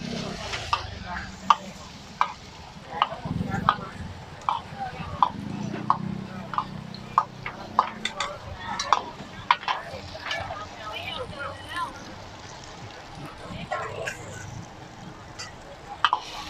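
Crab fried rice for sixteen boxes, using four pots of rice, is stir-fried in a wok with rhythmic metallic clanks of a spatula over a continuous sizzle, while people talk throughout.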